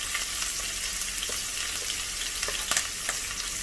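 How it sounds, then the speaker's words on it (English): Chopped onion, curry leaves and green chillies fry in hot oil with fennel and mustard seeds for prawn thokku, a steady close sizzle with occasional stirring clicks and pops and no talk. "we are going to add in the chopped onion, curry leaves,"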